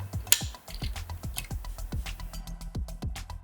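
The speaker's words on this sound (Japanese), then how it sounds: "次にこの両サイドにあるギアを外していきます" Side gears being worked free from a PS VR2 headset during teardown, a steady run of small ratcheting mechanical clicks and ticks at close range, with one sharper snap near the start.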